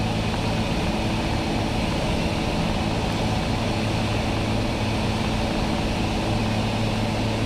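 Steady, loud engine and propeller drone inside a Cessna 310 twin-engine airplane in flight, turning crosswind in the traffic pattern for runway 15 on a hot, hazy day, with a constant broadband roar and no pauses.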